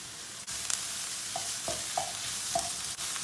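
Peppers frying in a pan give a continuous bright sizzle up close, with a few light taps of a utensil stirring them and no voices.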